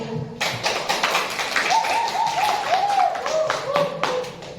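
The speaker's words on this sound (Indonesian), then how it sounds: "Tepuk tangan buat kelompok 1." Classmates clapping for a student group in a classroom, a scattered patter of hand claps and taps with voices talking over it throughout.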